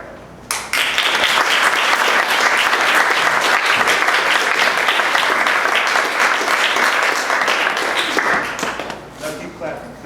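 Loud, sustained audience applause at a fundraiser event, dense clapping from a large crowd filling the room for several seconds before tapering off near the end.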